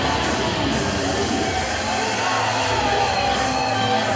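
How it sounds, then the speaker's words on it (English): A wrestling crowd erupts in a sustained, dense roar of cheers and shouts for the champion, Penta el Zero M, as a PCW Ultra main event begins. The noise fills the venue steadily, with no pause. "You hear the crowd erupt there for the champ."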